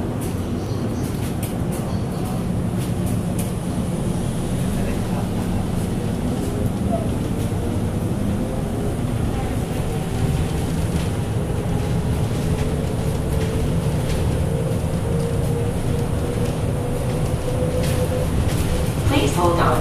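A Miami Downtown Metromover automated people mover train hums and rumbles steadily from the inside, with a rising whine as it moves along, continuous and fairly loud.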